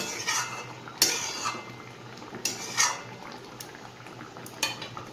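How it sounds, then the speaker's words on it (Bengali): A metal lid clinks and scrapes against a cooking pot of simmering Bengali fish curry, with a few sharp, close clatters spread over several seconds and a quiet kitchen hum between them. "ঢাকনাটা খুলে দেখে নেব ঝোলটা একদম কমে এসেছে"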